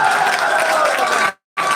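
An audience at a bhajan singing competition bursts into loud, dense applause that carries on steadily, cuts off abruptly into a brief silence, then resumes.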